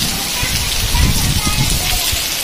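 Heavy rain pours down outdoors in a dense, loud, steady hiss, with close patters and splashes across the whole stretch; talk is not clearly audible over the downpour.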